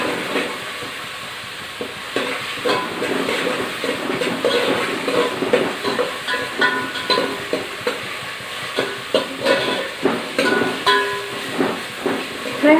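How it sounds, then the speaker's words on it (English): Tomatoes sauté in a hot pan for prawn curry, a close steady sizzle broken by a regular run of spatula scrapes and stirring knocks, with no talking. "Now we will saute the tomatoes for a minute or so."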